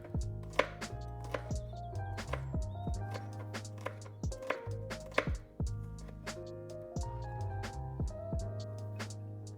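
A knife minces garlic in quick, rhythmic chops that continue for about ten seconds. The chopping is close but fairly soft, with no talking.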